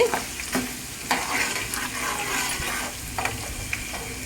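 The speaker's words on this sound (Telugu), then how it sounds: "చూడండి ఆనియన్స్ మాడిపోయేటట్లు వేగకూడదు, కొంచెం వేగితే చాలు" Onions fry in a pan with a continuous soft sizzle, while a spoon or spatula scrapes and stirs in several clear strokes close by.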